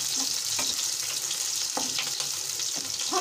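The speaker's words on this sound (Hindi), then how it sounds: "और इसी में थोड़ा सा भून लूंगी प्याज को।" Onions fry in a pan with a steady close sizzle, softly crackling throughout with a few brief stirring scrapes.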